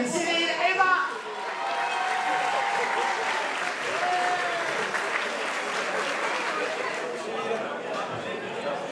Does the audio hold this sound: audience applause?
yes